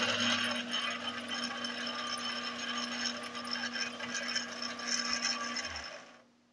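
A Singer 5835C sewing machine winding a bobbin, a continuous close whirring mechanical drone with a steady tone and ratcheting texture that runs for about six seconds, then fades quickly to quiet.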